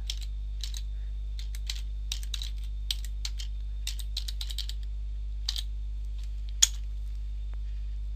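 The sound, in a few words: typing on a computer keyboard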